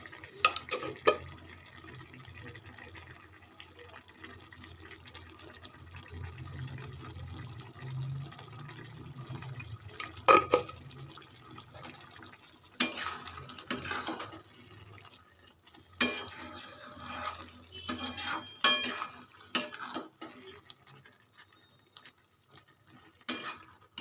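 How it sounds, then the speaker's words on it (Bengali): Banana flower curry being stirred in a pan, with soft scraping and occasional sharper clatters of the spoon against the pan, intermittent and close, a few louder knocks toward the end, no talking. "দিয়ে ভালো করে নাড়িয়ে নেব"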